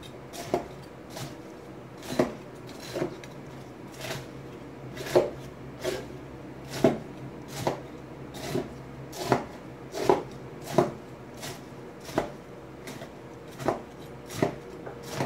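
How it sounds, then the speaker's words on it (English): Knife chopping food finer on a board, a steady series of about twenty soft, evenly spaced taps, close and fairly quiet, with no talking. "I'm just cutting this up a little bit finer"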